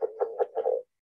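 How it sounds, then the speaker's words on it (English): A California red-legged frog gives a low chuckling call close up, four or five quick throaty pulses that run together at the end, then silence. "that low chuckle is level 1 California red-legged frog"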